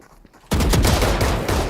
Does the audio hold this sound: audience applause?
no